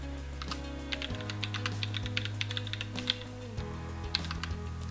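Computer keyboard keys tapped in quick, uneven bursts of sharp clicks, fairly close, over a steady low background hum, during office data-processing practice.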